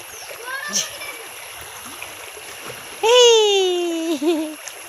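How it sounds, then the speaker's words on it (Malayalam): Water of the Manimooli river rushes in a steady, fairly close wash of noise that runs the whole time, with a clear voice, partly childlike, speaking over it. "ഇതാണ് നമ്മുടെ മണിമൂളിപ്പുഴ"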